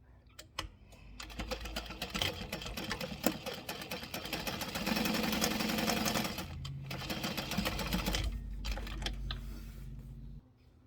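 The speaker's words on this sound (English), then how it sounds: "We'll top stitch across the top." A sewing machine top stitches across the top of a bag for roughly eight seconds, rising and slowing in speed, with faint clicks of handling before and after.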